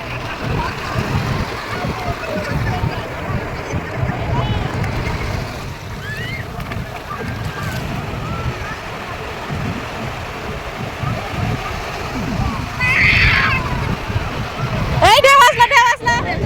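Incoming tide waves wash and rumble steadily on Digha beach under gusts of wind noise, while voices talk nearby over the surf.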